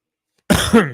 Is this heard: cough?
yes